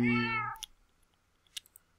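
A cat meows once in a Minecraft game, a clear drawn-out tonal call up close, followed by a few faint clicks in near silence.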